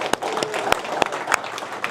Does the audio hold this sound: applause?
yes